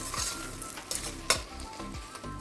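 Chopped small tomatoes sizzle and fry in hot oil for a prawn and egg curry, with a close, steady crackle broken by the scrape of stirring strokes and no talking.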